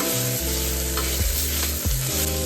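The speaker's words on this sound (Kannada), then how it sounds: "ಪುದೀನ ಸ್ಟ್ರಾಂಗ್ ಇರೋದ್ರಿಂದ ನೀವು ನೀಟಾಗಿ ಫ್ರೈ ಮಾಡಿದಷ್ಟು ಸ್ಮೆಲ್ ಆದಷ್ಟು ಕಡಿಮೆ ಆಗುತ್ತೆ" Mint leaves frying in a pan for tomato curry, a steady loud sizzle with stirring scrapes of a spoon throughout, close and continuous with no voices.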